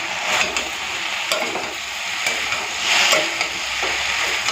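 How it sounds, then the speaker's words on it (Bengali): Fried shrimp and mixed vegetables with green chillies and a little sugar are stirred in a hot pan, giving a continuous loud sizzle and frying hiss with repeated scraping strokes of the spoon, close up and without talking. "তো চিংড়ি মাছটাকে না সবজির সাথে ভালো করে মিশিয়ে দিয়েছি"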